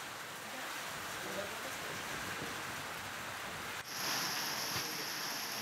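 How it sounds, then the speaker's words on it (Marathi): Heavy unseasonal rain falls steadily in Umarga taluka, Dharashiv, as a dense, even hiss of drops on surfaces, with the steady rain lasting throughout and growing slightly brighter toward the end. "आता जोरदार अवकाळी पाऊस बरसतो"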